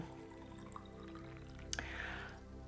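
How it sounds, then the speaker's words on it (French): Tap water runs into a nasal rinse pot, a soft steady trickle close by with a brief splash partway through, fairly quiet and with no talking. "vous pouvez prendre l'eau du robinet et ensuite remplir tout simplement donc votre Lota ou ici l'ustensile de douche nasale"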